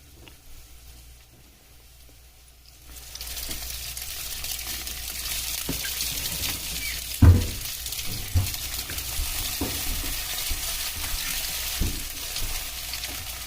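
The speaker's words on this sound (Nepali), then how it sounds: "प्याज हल्का रातो भइसकेको छ। त्यसो भएकोले मैले अब चाउमिन हाल्न गइरहेको छु।" Chow mein hits a pan of browned onions and capsicum; a quiet start gives way to a steady, loud sizzle, with a sharp clank of the utensil partway through and occasional stirring scrapes.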